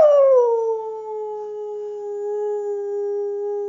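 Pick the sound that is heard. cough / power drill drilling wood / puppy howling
puppy howling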